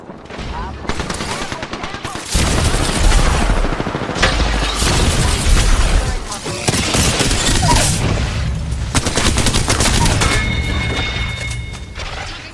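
Heavy gunfire in the video game Apex Legends: loud, dense machine-gun bursts and booming shots go on almost without pause, mixed with game noise and people talking over the fighting.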